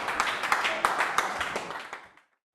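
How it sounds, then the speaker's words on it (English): Studio audience applause on a video game news show, a dense wash of clapping with sharp peaks that holds steady for about two seconds, then stops abruptly into silence. "Applause."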